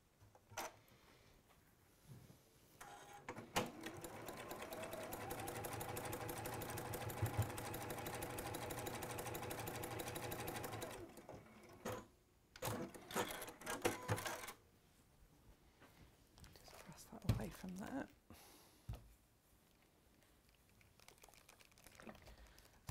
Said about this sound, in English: If I just sew this square onto here